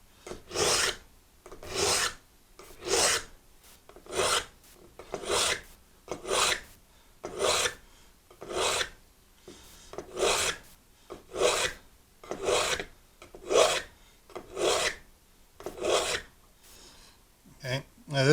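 Knife blade drawn across a Sharpal 6-in-1 sharpener and survival tool, making about sixteen regular rasping strokes in a steady rhythm. Each stroke is close and distinct, with short pauses between them.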